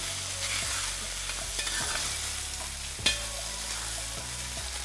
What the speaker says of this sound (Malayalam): ചെറുതായിട്ടൊന്ന് ഈ നെയ്യിൽ വരട്ടിയതിന് ശേഷം